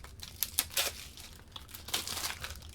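Plastic shrink wrap on a board game box crinkles and tears in close, bright bursts, with scattered crackles and rips as the film is pulled away.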